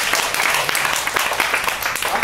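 A group claps together at the end of a kettlebell fitness class held at a Rotary club meeting, a brief burst of dense, uneven hand claps, close and moderately loud, with a voice speaking over it.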